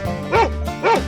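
Two short, sharp dog barks sound close and clear in a 3D animal video game, evenly spaced over a background of game music.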